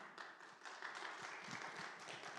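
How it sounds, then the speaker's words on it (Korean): Congregation at a Korean revival prayer meeting clapping to welcome the pastor, a steady, fairly distant applause with individual claps audible across the whole stretch. "우리 목사님께서 큰 박수로 맞이하겠습니다"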